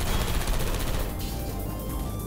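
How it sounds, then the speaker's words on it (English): Turrets in the video game Portal 2 fire a loud, continuous burst of rapid gunfire, dense and unbroken across two seconds, with no voices over it. "look out for gunfire"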